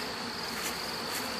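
Honey bees buzz busily around hive entrances in a bee yard, a dense steady drone close by, with no speech.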